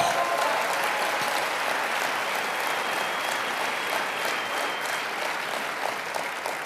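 A crowd claps continuously for several seconds, a dense steady wash of applause at fairly high level that holds even throughout with no voices on top.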